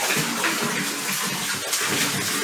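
Cold water in an inflatable paddling pool sloshes and splashes steadily as feet are dipped in, a continuous close, busy watery wash with no speech.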